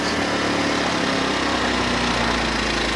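A Champion 2000 watt inverter generator runs in regular, non-economy mode, giving a loud, steady engine drone with a constant buzzing hum close by and no talk.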